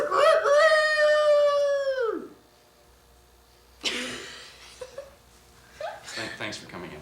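A voice imitates a rooster crowing with one long, loud, drawn-out call that falls in pitch and fades, followed by a quiet pause and then brief talk and chuckling in an indoor setting.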